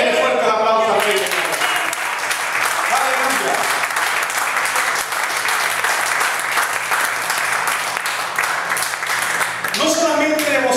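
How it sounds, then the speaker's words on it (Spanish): A church congregation claps loudly and steadily for about nine seconds, with a voice speaking over the start and end of the applause. "Denle fuerte el aplauso a Dios."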